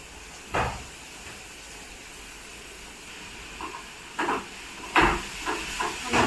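Dried fish (sukat) sautéing in a hot pan for a chutney: a continuous hiss with a few sharper sizzling bursts as the fish is stirred, heard close and fairly loud, with no talking.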